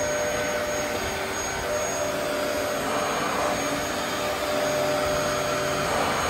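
Vacuum cleaner fitted with a new motor runs steadily on carpet, a loud continuous motor whine and rushing airflow held at an even level throughout with no pauses.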